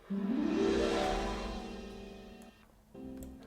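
Orchestral transition swell: a rising glissando with harp and shimmering cymbals, bright and full, building quickly then sustaining before fading and re-entering softly near the end.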